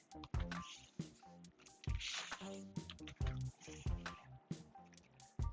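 A flexible RV water hose is unhooked and coiled up outdoors, giving close, irregular rubbery thumps, squishes and faint dribbles of leftover water.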